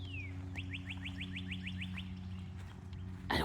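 Outdoors near a church, a bird gives a rapid run of about ten bright, evenly spaced chirps, preceded by a single falling whistle, all over a steady low hum.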